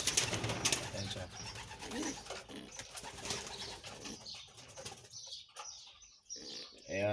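Pigeons coo and rustle close by, with occasional wing flaps and soft chirps, in a quiet setting with some light handling noise.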